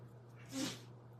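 A single sneeze bursts out at moderate-to-faint level partway through, over a steady low hum, during an indoor craft session.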